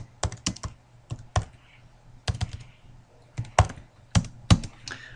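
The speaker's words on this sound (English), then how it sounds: "I'm going to type something along the lines of what we had before" Keystrokes tapped out on a computer keyboard in short irregular clusters with brief pauses between bursts, close and fairly quiet, with no one speaking.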